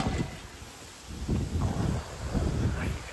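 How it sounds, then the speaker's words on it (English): Gusty wind at Lake Como, Italy buffets the microphone in low, uneven surges, rising and falling throughout with no other clear sounds. "Windy up here as well, isn't it?"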